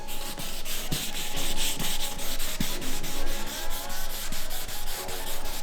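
Rhythmic back-and-forth scrubbing of sandpaper over a wet car roof on a Mercedes C63 AMG, repeated strokes close by at a steady pace, with no talking.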